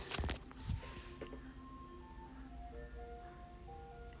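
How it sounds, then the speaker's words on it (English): An ice cream truck drives past a house, its tinkling jingle melody faint and distant, played as a steady tune after a couple of nearby soft thumps. "That's the ice cream truck."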